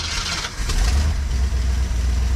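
Bricklin SV-1 sports car engine, fitted with a new aluminum race radiator, runs at a steady loud idle with a deep rumbling throb and a slight rise in revs, recorded close by.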